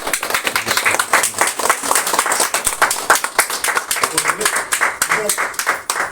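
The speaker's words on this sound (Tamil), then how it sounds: "இரு கரங்களை நல்ல கைத்தட்டி வரவேற்போம்" Village crowd clapping to welcome a guest at a Nataraja temple abhishekam gathering, with dense, continuous applause at close range and voices mixed into it throughout.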